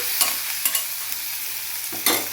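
Onion pieces tossed with a pinch of turmeric in a pan for a quick egg and chana dal curry, giving a few short scraping stirs over a soft, steady sizzle, close and moderately loud.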